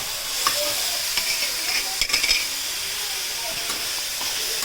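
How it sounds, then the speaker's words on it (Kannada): Onion and tomato frying in a pan for a paneer Schezwan gravy, a continuous bright sizzle with scraping stirs and a few clattering knocks around the middle, close up and without speech. "ಉಳ್ಳಾಗಡ್ಡಿ ಟೊಮೆಟೊ ಚೆನ್ನಾಗಿ ಮಂದಗಾಗಿ ಫ್ರೈ ಮಾಡ್ಕೊಳ್ರಿ"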